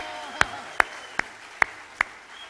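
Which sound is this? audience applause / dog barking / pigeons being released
audience applause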